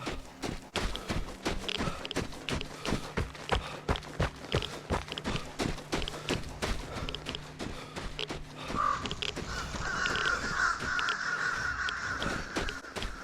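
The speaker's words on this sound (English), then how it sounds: "Crows are a tall tale sign of somebody near you" Crows caw in the Vigor video game, several harsh calls rising around the middle and later part, mixed with a steady rhythm of footsteps and game ambience throughout.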